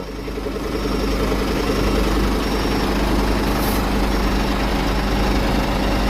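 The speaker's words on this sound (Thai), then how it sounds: "เสียงเครื่องยนต์จะแตกต่างจากรุ่นเก่าเยอะมาก" A Scania Super Euro5 420P truck engine idles with a steady, smooth, low rumble close by, holding an even level the whole time with no talking.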